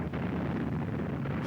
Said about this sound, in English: The explosion, lifting a ship out of the water.